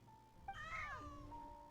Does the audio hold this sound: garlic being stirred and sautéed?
no